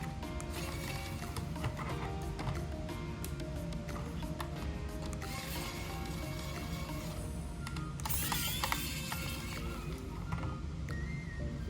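Small clicking and scraping from a screwdriver backing a screw out of a Roccat computer mouse, with a steady low background hum throughout and a brighter burst of ticking near the end.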